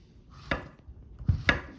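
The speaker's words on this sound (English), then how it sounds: "And then continue chopping all your other delicious vegetables." A kitchen knife chops vegetables for ratatouille on a cutting board, two sharp, separate thuds about a second apart, close and clear with no talking.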